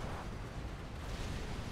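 Artillery barrage in Supreme Commander: Forged Alliance, with tier 3 artillery shelling: a continuous, heavy rumble of overlapping explosions, steady and loud throughout with no clear gaps.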